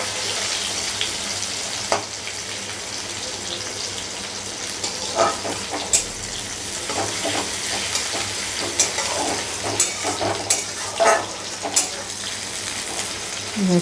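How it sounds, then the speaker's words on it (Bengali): Chopped onions fry in a pan of hot oil for a Bengali loitta fish bhuna, giving a steady close sizzle broken by scattered clicks and scrapes of stirring, with no talk. "দেখুন পেঁয়াজটা অল্প ভাজা ভাজা হয়ে এসছে।"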